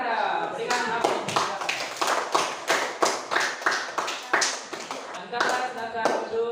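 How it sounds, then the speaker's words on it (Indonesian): A classroom of students applauds the winner of a game, a burst of dense clapping lasting several seconds with uneven, rippling rhythm, fairly close and loud throughout. "Berikan aplaus."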